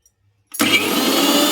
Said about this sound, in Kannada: ಕ್ಲೋಸ್ ಮಾಡಿ ಇದು ಮಿಕ್ಸಿ ಮಾಡ್ತೀನಿ